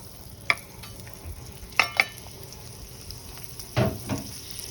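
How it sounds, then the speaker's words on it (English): Chopped whole onion frying in bacon grease in a pan, a faint steady sizzle with a few sharp clinks and scrapes of stirring scattered through. "we're gonna put this in the bacon grease"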